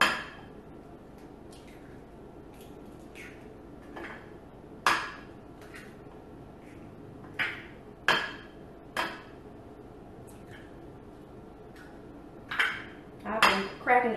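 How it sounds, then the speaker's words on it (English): Eggs for carrot cake batter cracked against a bowl, several sharp, close knocks and clinks spaced irregularly over quiet background. "Let me go ahead and crack these eggs."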